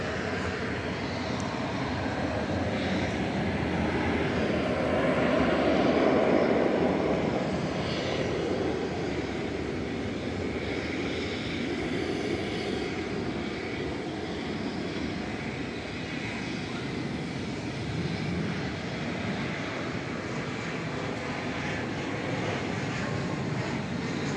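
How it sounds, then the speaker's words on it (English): An American Airlines Airbus A321 jet airliner at DFW Airport at night produces a continuous broad engine rumble that builds to a peak early on, then settles into a steady, slightly quieter roar. "That's American Flight 779. Airbus A321."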